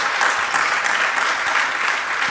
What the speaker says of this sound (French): Je vous demande même de peut-être les applaudir